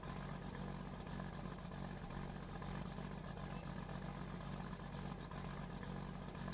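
A dual-wheeled farm tractor idles in Farming Simulator 19, a steady low engine drone with faint mechanical clatter that holds evenly and close for the whole stretch, with no talking.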